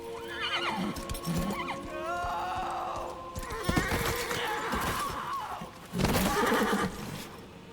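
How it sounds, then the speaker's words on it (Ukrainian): A horse in Darksiders 3 neighs and whinnies loudly in several long, wavering calls, with hoofbeats clip-clopping between them. "А, кінь наш."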